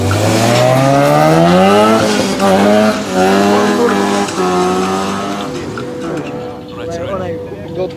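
A sports car at a 2015 street race show training session in Osijek revs loudly with rising and falling engine pitch, fairly close, before fading toward the end while people talk over it.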